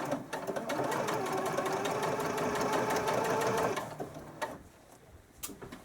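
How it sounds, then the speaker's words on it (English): Sewing machine stitching a straight zipper seam through bodice fabric, a fast steady mechanical whir with rapid needle clatter for several seconds, then stopping, followed by faint fabric handling. "you're just going to start sewing a straight line"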